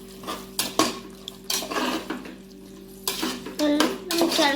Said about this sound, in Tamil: உப்பு சிக்கனுக்கு தேவையான அளவுக்கு அப்புறம் போட்டு இதை நல்லா கிளறி விட்டுக்கலாம்.